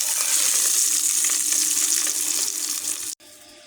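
Beaten eggs fry in hot oil in a pan, a loud, dense sizzle that holds steady for about three seconds, then cuts off abruptly as the pan goes quiet.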